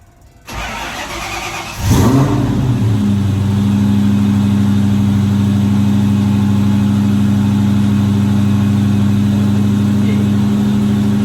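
A Ford Mustang Foxbody with a Terminator engine swap cranks briefly, catches and settles into a loud, steady idle up close, with a deep rumble holding to the end.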